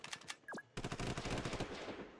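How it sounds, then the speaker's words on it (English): Artillery fire in the Roblox combat game Noobs in Combat: a short whistling shot, then a dense, loud run of rapid booming blasts rolling on for over a second, with no talk. "Fire artillery shell"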